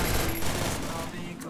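MP40 Cobra submachine gun fire in Free Fire, a rapid dense automatic burst that stays loud and close through the whole short moment.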